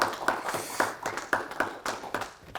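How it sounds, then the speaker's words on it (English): Scattered hand clapping from a small audience at a talk on Japanese colonial currency for Taiwan, a few sparse, uneven claps rather than a full ovation, moderately faint. "okay, you can applaud."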